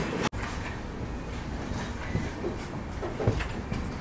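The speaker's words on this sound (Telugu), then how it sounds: "లూప్లోకి అయితే తీసుకుంది ట్రైన్, బట్ స్కిప్ చేస్తుంది వరంగల్ అయితే." The Visakhapatnam LTT Express rumbles steadily as it runs into a loop line, with a continuous low roar, faint rattles and a few soft clacks heard from on board.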